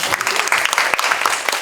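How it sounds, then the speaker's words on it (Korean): Audience clapping at a small-business talk concert on online sales, a brief burst of dense, steady applause from a room full of people, with a faint voice mixed in. "박수 치셔야 됩니다."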